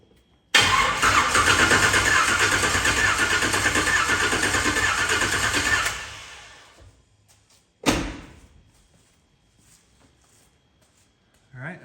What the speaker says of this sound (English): we're gonna kick the battery power back on and just bump it over